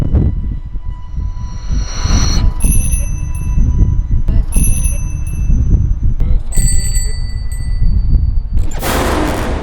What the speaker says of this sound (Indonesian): enggak mungkin lonceng ini bisa gerak sendiri sekencang itu